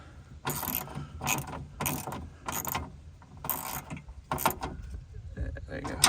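A ratchet clicks in several short, close bursts while tightening a 10 mm bolt nut on the door of a 1999 Toyota Avalon during window regulator work, with brief pauses between runs.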